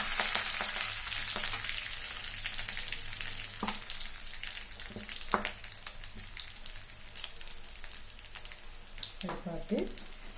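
Steady sizzling of onions and curry leaves frying in hot oil, with occasional crackles and a brief stirring clatter near the end.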